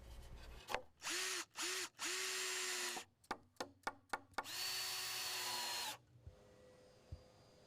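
A power drill drives 3.5-inch deck screws into deck boards: several short whirring bursts, then a longer run, a quick series of stuttering pulses and another sustained spin, close and loud with no talking.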